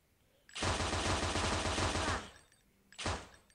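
Rapid automatic gunfire in a shooting video game: a dense, loud burst of about a second and a half, then a second short burst after a pause, with no talk over it.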